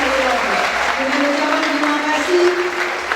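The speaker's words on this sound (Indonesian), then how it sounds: "Kita beri aplaus" Audience applause follows a Bank Indonesia teaching program session featuring the Deputy Governor, steady clapping from a room full of people sustained throughout at a fairly loud level.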